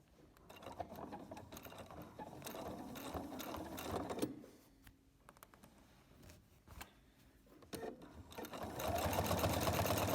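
Sewing machine running a steady stitch along the edge of a quilt's binding in white thread, a continuous mechanical whir that pauses briefly mid-run then resumes louder, close and alone.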